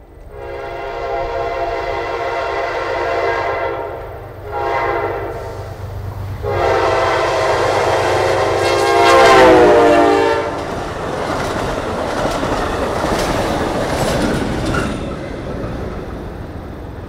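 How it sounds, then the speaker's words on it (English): A westbound Amtrak Borealis passenger train arrives in Tomah, Wisconsin. Its loud horn sounds in several long blasts, then the train rumbles and clatters past close by, with no voices. "Amtrak -8 519 leads the westbound Borealis into Tomah, Wisconsin, and the next station stop."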